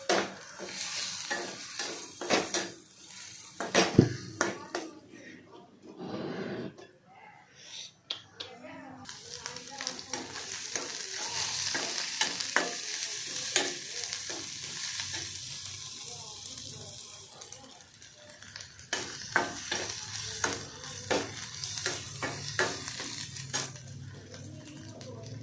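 Cumin, coriander and chilli being stirred in a hot pan, with continuous sizzling and repeated scraping strokes up close; a voice speaks intermittently over the cooking noise.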